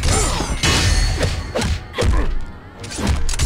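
Rocket pieces get hit and broken in Mortal Kombat Mobile, making a rapid series of loud heavy thuds and crashing impacts over layered game effects.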